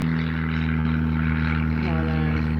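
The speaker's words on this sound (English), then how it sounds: "Listening to your local airplanes" A local airplane flies overhead near a lakeside spot with mountains nearby, producing a steady, even droning hum with a constant tonal whine that holds at moderate loudness throughout.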